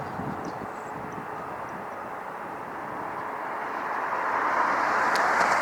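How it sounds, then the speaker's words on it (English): A United Boeing 787-9 Dreamliner from Shanghai coming in to land at LAX, its steady broad jet roar swelling slightly louder over several seconds with no talk. "787-900 Dreamliner from Shanghai is coming in."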